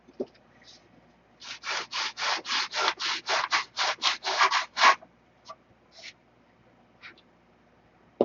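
Rhythmic back-and-forth sanding on wood, a dozen quick even strokes in a row, close and clear, then a few scattered rubs.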